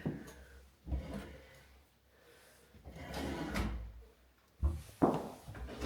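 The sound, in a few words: soft-close kitchen drawer closing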